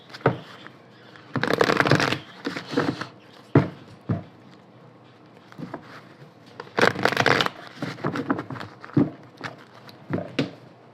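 A deck of oracle cards being shuffled in repeated bursts of riffling and slapping, close and crisp, with short pauses between rounds and no talking.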